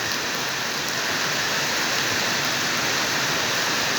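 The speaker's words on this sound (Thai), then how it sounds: "ฝนกำลังตก" Heavy rain pours down in a dense, continuous hiss, loud and steady throughout with no voices.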